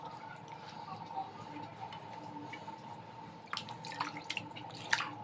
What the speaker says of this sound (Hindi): इस तरीके से दबा दबा के आप पानी भी इसका आराम से निकाल सकते हैं